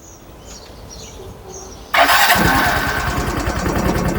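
A Yamaha Grand Filano motorcycle fitted with a 20F 16V supercapacitor cranks and catches abruptly, then settles into a loud, steady rumbling idle with rapid pulsing, close by.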